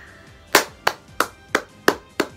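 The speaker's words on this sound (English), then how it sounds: "I'm clapping for the clown." Six sharp hand claps ring out at an even, slightly slow rhythm, close and distinct, with no talking over them.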